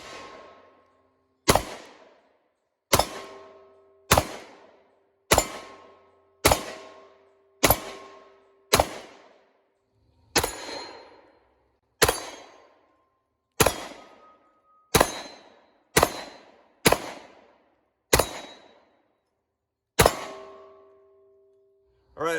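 A Ruger SR1911 10mm pistol fires at an outdoor range, sharp single gunshots spaced about one to two seconds apart, each with a short ringing tail, about fifteen shots in a row.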